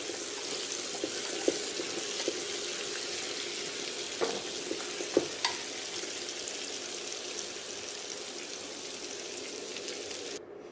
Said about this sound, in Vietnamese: Cái này mình xào sơ thôi, không phải là mình chiên nha. Xào cho nó thấm hành tỏi thôi.